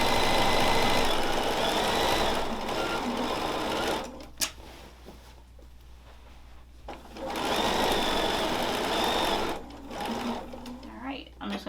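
A sewing machine stitches quilt binding in two loud, steady bursts separated by a quieter pause with handling clicks, ending in a short back-tack, with a voice speaking lightly alongside.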